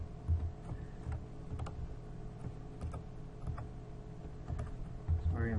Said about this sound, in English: Sorry, I'm getting trigger happy on my keyboard here.